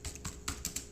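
Quick typing on a computer keyboard, about half a dozen light key taps in a fast, uneven burst, close and soft.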